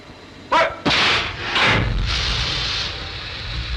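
Ship's guns firing at a U-boat during a 1944 wartime naval battle, two sharp loud blasts in quick succession followed by a long rumbling roar that lingers and fades.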